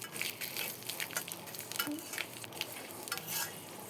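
Bay leaves and panch phoron frying in oil in a wok, a soft close sizzle with crackles and repeated stirring scrapes, fairly quiet and continuous.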